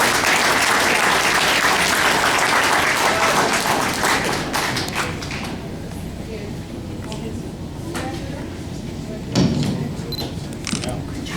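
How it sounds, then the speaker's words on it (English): Audience at a college graduation ceremony applauds loudly in a thick, continuous roar for about five seconds, then the clapping thins to scattered claps and light crowd noise with a few thuds. "Let's give everybody a great round of applause for their contributions here today."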